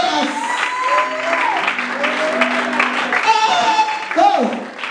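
A Sunday congregation at Iglesia Camino de Cristo in Bata, Equatorial Guinea, applauds steadily, dense clapping throughout with a voice or singing carried over it.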